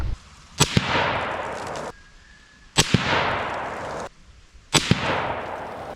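Three loud rifle shots firing 165-grain bullets at an outdoor range, evenly spaced about two seconds apart, each a sharp crack followed by a long rolling echo that fades before the next.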